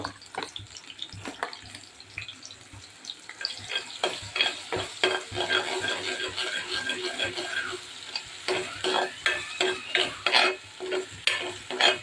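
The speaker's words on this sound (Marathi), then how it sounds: "तर मस्त आपण फोडणी देणार आहोत." Spices tempering in hot oil for a fish curry, sizzling steadily while a spoon stirs and scrapes the pan in a quick, repeated rhythm, close and continuous without talk.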